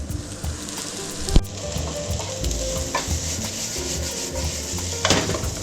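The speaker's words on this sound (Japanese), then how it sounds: "玉ねぎが飴色になってきましたので、ここでお肉を入れたいと思います。" Onions frying in a pan at home until caramelized, ahead of a ginger pork dish, giving a steady close sizzle with stirring and scraping. A few sharp knocks sound partway through.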